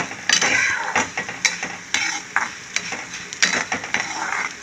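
Coriander seeds sizzle and fry in oil in a pan, with repeated sharp stirring scrapes and clinks of a spoon against the metal, steady and close.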